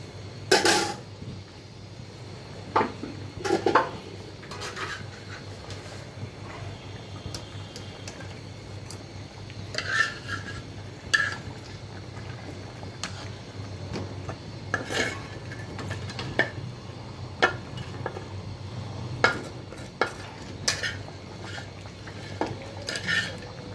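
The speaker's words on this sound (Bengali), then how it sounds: "আমি ভেজে রাখা মাছের মাথাগুলো দিয়ে দিব" Fried fish heads are stirred into a simmering lentil gravy in a pot, with irregular metallic clinks and scrapes of a spoon against the pot over a low, steady background hum.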